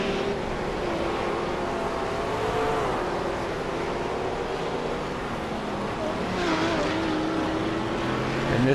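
Race cars in a video game sim race at Daytona stream past a Ford GT, their engines whining continuously with pitch shifts as they pass, loud and close, with a faint race commentary voice underneath.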